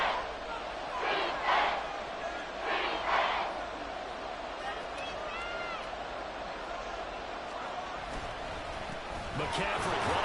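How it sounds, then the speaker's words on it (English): Stadium crowd at Arrowhead in a Madden 24 football game roars steadily throughout, with bursts of cheering swelling and fading while a commentator's voice talks over the noise. "The Arrowhead crowd in full roar."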